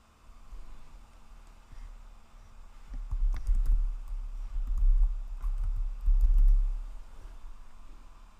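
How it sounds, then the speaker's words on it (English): Keys clicking on a computer keyboard as a short burst of typing, close and fairly quiet, with soft taps building toward a faster run near the end. "And just type in the name of the category that you want to add."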